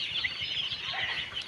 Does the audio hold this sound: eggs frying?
no